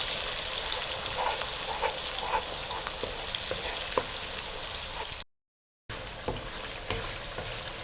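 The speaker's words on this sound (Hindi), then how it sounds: "आप इनको अच्छी तरह से इस मसाले को भून लें।" Masala frying for mutton paya sizzles steadily in a pan, a continuous crackling hiss with occasional spoon stirs and pops, broken by a brief silent gap before the sizzling resumes.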